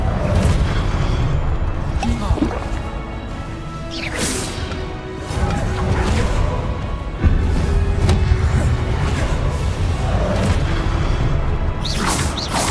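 Spell-casting effects from the video game Hogwarts Legacy, several loud whooshing blasts and crashing impacts over a dense rumbling game soundscape, with a voice talking over the action.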